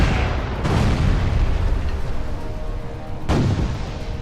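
Broadside of ship's cannons firing in the naval video game Furious Seas, heavy booming blasts with a dense rumbling roar that swells again near the end.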